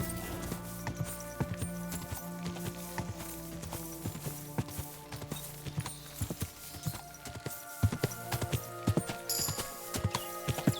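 Hooves of Roach, a horse in Kingdom Come Deliverance 2, clop in a quick steady galloping rhythm over a humming background, with sharper hoof strikes toward the end.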